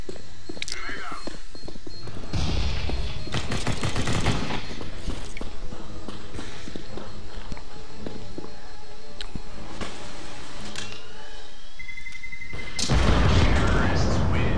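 Counter-Strike combat: a grenade blast and bursts of gunfire crackle through a busy round, with heavy thumps early on and a loud broadband explosion near the end amid scattered shots and footsteps.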